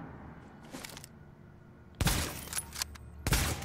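Two sharp, loud gunshot bursts from a heavy-hitting marksman rifle in The Division, each a sudden crack with a lingering tail, heard after a quieter stretch of faint background game ambience.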